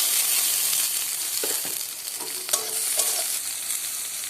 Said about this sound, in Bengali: এবার কেটে রাখা টমেটো দিয়ে দেবো